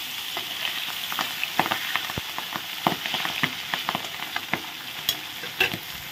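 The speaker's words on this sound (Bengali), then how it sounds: "এই মাছগুলো ভাজা হয়ে গেছে" Pieces of rohu fish fry in hot oil in a pan with a constant close crackling sizzle, broken by occasional sharp clicks of a utensil turning them.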